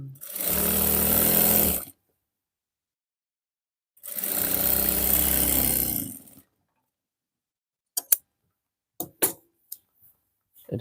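Sewing machine stitching pajamas at a tailor's shop, two sustained runs of steady motor whir of about two seconds each separated by silence, followed by several short sharp clicks and taps.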